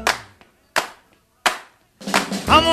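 Three loud, sharp hand claps spaced about three-quarters of a second apart, each followed by silence, then a voice begins singing over the beat as a 1950s rock and roll recording continues.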